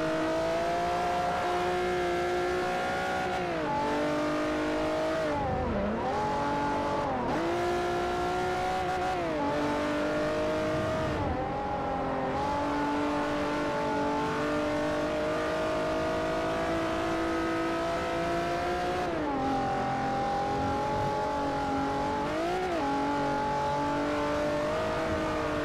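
Race car engine in the Forza Motorsport 4 video game, a rear-wheel drive sports car, revving loudly and continuously with repeated throttle lifts and pitch dips as it shifts and accelerates, no talk over it.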